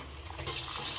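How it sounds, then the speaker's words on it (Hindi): Cold water splashes over boiled noodles for chicken chow mein, a faint, brief pour that swells into a fuller rush of liquid about halfway through. "ठंडा पानी मारेंगे।"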